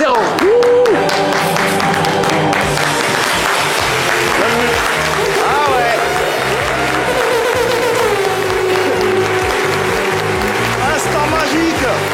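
An audience applauds steadily to welcome a guest onstage, the clapping blended with loud music throughout and a voice briefly heard over it.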